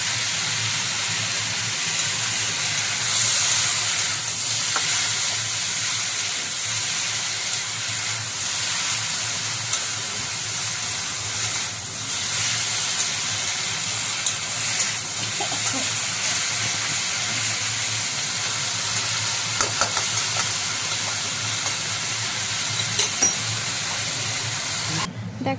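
Water spinach frying in a wok makes a continuous, loud, close hiss and sizzle that holds steady for a long stretch, with faint clinks and stirring now and then.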